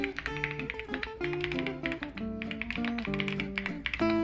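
Keys clack steadily on a wireless compact mechanical keyboard, a fast irregular stream of close, crisp taps with bright tonal pings, moderately loud and alone without talk.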